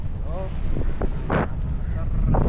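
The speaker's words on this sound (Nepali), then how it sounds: "एकदम हावा आइरहेछ।" Wind buffets the microphone with a low, rough rumble throughout on Pulau Ubin island, Singapore, while voices speak intermittently over it.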